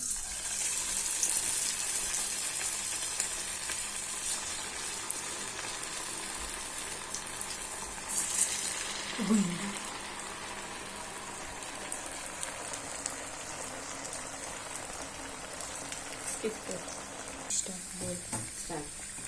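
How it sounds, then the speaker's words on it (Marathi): Sabudana vadas deep-fry in hot oil, a continuous close sizzle and bubbling crackle that keeps on throughout, with occasional clinks and handling sounds and brief low voices in the background. "आता आपण वडे तळायला घेऊया"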